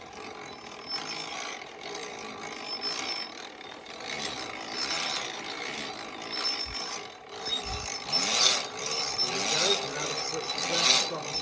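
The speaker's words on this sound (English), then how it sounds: "start to turn the handle in an anti-clockwise direction for me" A rope-making jack in a cave has its handle cranked anticlockwise to twist strands, giving a continuous creaking, ratcheting mechanical rub with wooden knocks, steady and fairly close.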